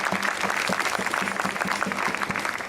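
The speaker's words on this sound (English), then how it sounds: "They really deserve a big hand of applause." A crowd at an anti-war rally against war on Iran applauds the organizers with loud, sustained clapping and a few rhythmic beats running through it, steady across the whole stretch.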